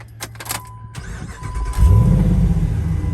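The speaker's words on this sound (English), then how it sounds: "Fires up just like a Chrysler." A 2007 Jeep JKU fitted with a 5.7L VVT Hemi V8 cranks briefly, then fires up loudly into a deep, steady rumble close by.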